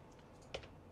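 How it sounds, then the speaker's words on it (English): A few quick keystrokes tapped on a computer keyboard, soft clicks with one sharper key press in the middle, close and faint in a quiet room. "Typing a lot of mistakes now because I said I just could type blindly, probably."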